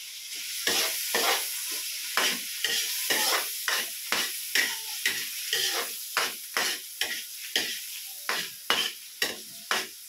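Mushrooms frying in melted butter in a pan, a bright sizzle broken into regular strokes as a spoon stirs them about once or twice a second, close and clear with no speech.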